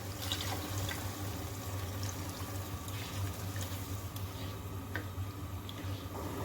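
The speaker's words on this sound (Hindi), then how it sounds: "साथ ही इसमें मैं चने का पानी ऐड कर दूँगी।" Chickpea cooking water poured into a hot pan of black pepper chickpeas, a continuous watery trickle and faint sizzle with light drips, close and steady, no voices.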